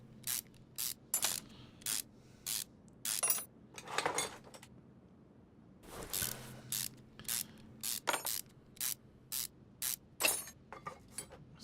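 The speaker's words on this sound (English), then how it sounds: "Let's just undo all the nuts, undo all the bolts." A ratchet undoes the nuts and four sump bolts on a two-piston engine, heard as short bursts of fast clicking in a loose rhythm, close and fairly loud, with a few clinks of metal between bursts.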